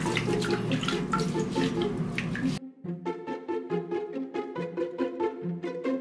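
A hedgehog gets a final rinse under running water in a bathroom sink. Steady, close tap water splashes loudly for a few seconds, then cuts off, leaving quieter rhythmic tonal pulses with no talk.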